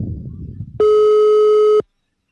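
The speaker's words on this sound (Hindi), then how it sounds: "उसका फ़ोन नहीं लग रहा था।" A telephone busy tone sounds during a night spent camping in a forest: after faint low rumbling, a single steady electronic beep rings clearly for about a second, then cuts to silence. No one speaks.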